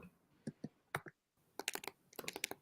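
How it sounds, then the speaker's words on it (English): Typing on a computer keyboard comes in irregular bursts of crisp key clicks, close and fairly quiet, with a brief pause and then a faster cluster of keystrokes, no talking. "Are you typing it in?"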